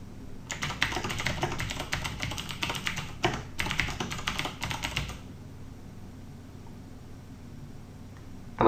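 Rapid typing on a computer keyboard, a dense run of key clicks for about five seconds, then quiet room tone.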